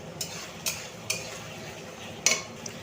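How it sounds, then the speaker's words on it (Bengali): Spices frying in oil in a pan with a metal spoon stirring, several sharp scraping clicks over a soft background sizzle, close by and with no talking. "তো দেখতেই পাচ্ছ আমার মশলাটা ভাজা করছি।"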